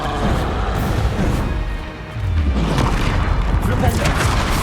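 A spell effect from the Hogwarts Legacy video game fires as a dense, loud booming crash with a dip and a renewed rumbling surge, heavy game action layered throughout.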